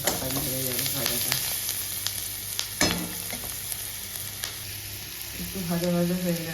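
Vegetables sizzle and fry steadily in a hot pan with salt added, a continuous close crackle with small bursts and stirring clatter throughout.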